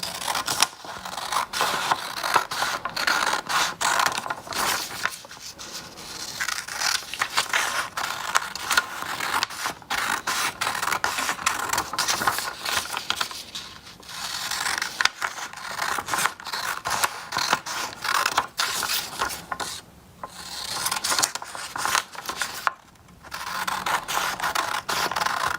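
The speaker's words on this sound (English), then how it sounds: "So the first thing you need to do is cut out your heart along these lines." Scissors snipping through paper to cut out a heart shape for a craft card, close and crisp, with a continuous run of small crunching cuts and brief pauses.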